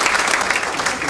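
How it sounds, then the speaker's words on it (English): Brief burst of clapping from an audience at a fall honors recognition ceremony in Fort Myers, dense and fairly loud, many hands together with a faint crowd murmur. "So give yourselves a round of applause."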